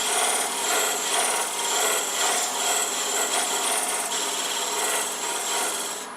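A worn spindle gouge reground into a beading tool cuts wood on a lathe, rocked back and forth on the tool rest, making a steady, loud, close rasping scrape that pulses slightly as the tool rocks, with no talk.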